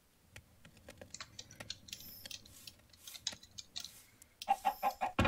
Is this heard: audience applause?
no